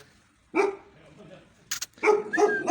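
A mother dog guarding her puppies at a house in Burdur, Turkey, gives a few loud close barks in short bursts, with a voice speaking between them.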